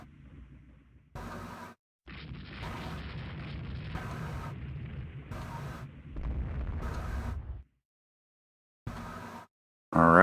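Naval ships trade gunfire in the video game Rule the Waves 2. Deep booming salvos come in several bursts separated by abrupt silent gaps, heavy and rumbling.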